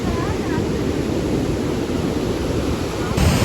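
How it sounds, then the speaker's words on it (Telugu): Ocean waves and strong wind at Kapil beach in Varkala, a steady loud roar of surf with heavy wind buffeting the microphone throughout. "సో ఇది గైస్ కపిల్ బీచ్."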